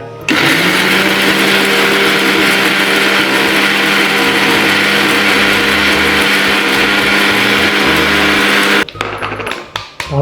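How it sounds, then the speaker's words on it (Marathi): A mixer grinder jar pulverizes whole spices into Agri Koli style garam masala, its motor roaring in a loud, steady, high whine for about nine seconds before cutting off abruptly, leaving faint rattling. "पुन्हा एकदा याला मिक्सर जारला आपण बारीक करून घेऊया"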